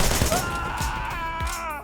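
Gunfire from the Wanted: Dead video game, a few low thumping shots spaced across a busy game soundtrack with a steady tonal hum, fairly close and moderately loud.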